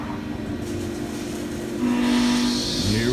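A Haas VF4 CNC mill changes tools, producing a loud steady mechanical hum with a rising motor whine and airy hiss toward the end, lasting a few seconds.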